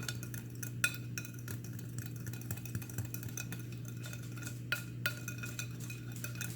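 Diet soda cake batter is whisked by hand in a large bowl: quiet, continuous stirring with a fast run of light clinks and taps against the bowl, close and without talk.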